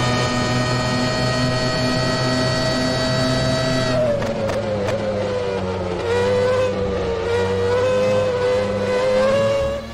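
A McLaren F1 engine in the rFactor 2 racing sim drones steadily at high revs, then drops sharply with quick downshift blips before climbing back up under acceleration. It is loud and close, with no talk.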